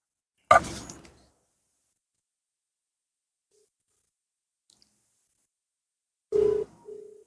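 A telephone call being placed: a short noisy click burst, a long silence, then a steady ringing tone with a brief break near the end, heard alone.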